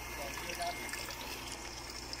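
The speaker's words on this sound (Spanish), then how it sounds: "Y ahí pueden observar cómo empieza ya a caer el retorno" Return water falling into the tubes of a hydroponic pyramid irrigation system, a steady faint trickle and stream of running water with a low hum beneath, close but quiet, continuous throughout.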